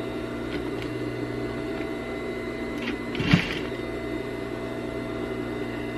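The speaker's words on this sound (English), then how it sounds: "Let's sew across the top here." A sewing machine stitches across the top of fabric for a small sleeping-bag critter holder, a steady close motor whir held throughout with one brief louder clack partway through.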